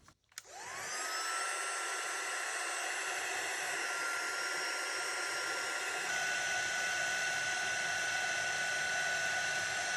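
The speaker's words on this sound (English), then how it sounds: "you can use a heat tool or a hair dryer. So I'm just quickly going to dry this." A hair dryer switches on and runs continuously at a steady high whine, drying glue on recycled cardstock. It is close and loud, and no one talks over it.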